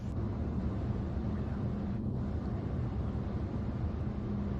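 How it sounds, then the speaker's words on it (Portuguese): Steady low rumble of tyre and wind noise inside a moving Renault Rafale PHEV, continuous and even throughout with no talking. "ouvimos um pouco os ruídos de rolamento, um pouco os ruídos do vento"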